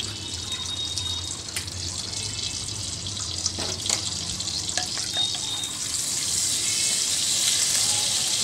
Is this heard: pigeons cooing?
no